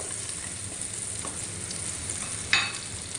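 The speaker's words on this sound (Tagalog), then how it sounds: "Tutunawin lang po ulit natin yung butter na yan mga boss chip." Butter melts and sizzles in a frying pan for a home-cooked beef with broccoli dish, giving a steady close crackling hiss with one brief louder spatter burst partway through.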